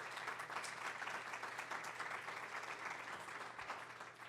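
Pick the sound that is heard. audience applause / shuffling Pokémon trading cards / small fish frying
audience applause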